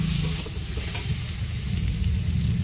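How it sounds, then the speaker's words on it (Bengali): Fried potatoes stirred and sautéed with spice paste in a pan for a fish curry, giving a continuous close sizzle and soft hiss with stirring motion throughout the short stretch, no voices. "আর ভেজে রাখা আলুটাও দিয়ে দিলাম, দিয়ে ভালো করে আরেকটু কষিয়ে নেব"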